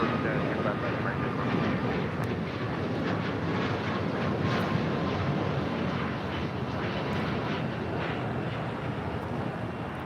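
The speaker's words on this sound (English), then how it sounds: "This is United Airlines 2437 taking off to San Francisco on a MAX 8." A United Airlines Boeing 737 MAX 8 jet takes off at LAX, giving a steady, loud broadband engine roar that holds for the whole stretch with no pauses.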